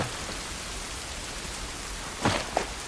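Rain in The Last of Us video game makes a steady, dense hiss of falling drops that fills the whole stretch, with a couple of brief louder splashes near the end and no talk.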